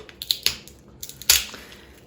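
Walnuts being cracked open at home, likely with a hammer on a wooden board: a few sharp, dry cracking snaps spaced irregularly, with one louder crunch near the end, close by and without talk.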